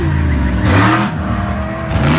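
Off-road race truck engine revving hard in qualifying at the Big Sky 200 in Broadview, Montana, a loud, steady roar with a rising surge as it charges toward the finish line.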